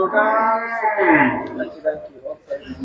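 Cattle on a cow farm raising Kurbani cattle give a loud, drawn-out moo that slides down in pitch, followed by shorter low moos and scattered farm noise close to the microphone.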